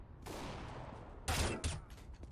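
Gunfire in Counter-Strike: Global Offensive on a co-op heist custom map, with police: a dense, sustained burst of shots, then two louder, closer blasts and scattered shots trailing off.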